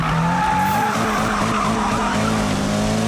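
In a Need for Speed race, a car's e-brake throws it into a sharp turn, with a loud sustained tire squeal and skid riding over the engine roar for about three seconds.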